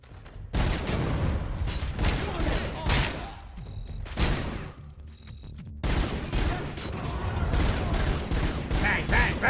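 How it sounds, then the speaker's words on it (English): Automatic gunfire from the Robocop: Unfinished Business video game rattles in several loud, rapid bursts separated by short silent gaps, with occasional in-game voices mixed in. "Bang, bang, bang, bang!"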